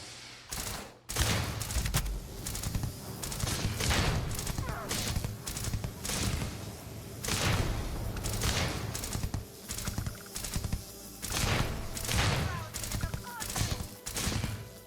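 Rapid bursts of gunfire from the space video game Starfield repeat through a dense, busy battle mix, with clustered volleys and layered effects holding at a steady, loud level from start to finish.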